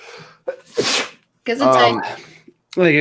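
A single sharp human sneeze bursts out between short stretches of conversational talk, loud and close, in a morning radio studio setting.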